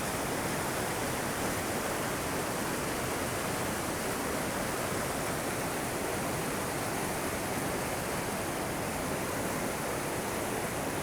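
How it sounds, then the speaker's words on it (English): Small mountain waterfall in California's High Sierra, a constant close rushing roar of falling water, dense and unbroken at an even level throughout, with no voices. "Nice little calm spot at the base of that little waterfall."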